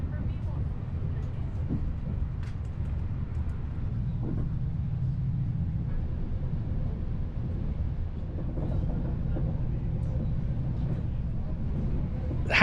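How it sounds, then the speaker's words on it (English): A Transpennine Express Nova train pulls out of a station and crosses the River Ouse, giving a steady, continuous low rumble heard from on board throughout, with faint intermittent creaks and clicks. "Soon we're pulling out of the station and crossing over the River Ouse."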